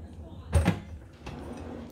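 A kitchen drawer of oven dishes slides open with a short, close rumble and clatter, followed by quieter rustling.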